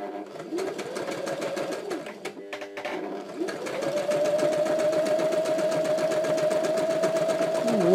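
A Brother Star 60 sewing machine stitching a zigzag, with a steady, loud mechanical whirr and rapid needle clatter that briefly pauses and then resumes continuously.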